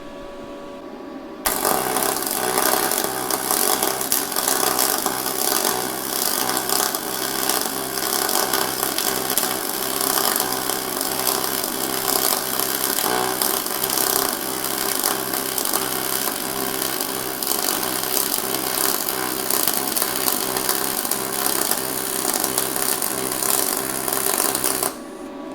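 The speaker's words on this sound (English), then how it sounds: "It'll make that buzzing kind of frequency noise, and that's what's going on. It's that double pulse going to work." A YesWelder YWM-211P double pulse MIG welder runs a bead on 1/16 inch aluminum, giving a loud, steady crackling buzz with a fast pulsing rhythm that starts abruptly and holds unbroken for over twenty seconds.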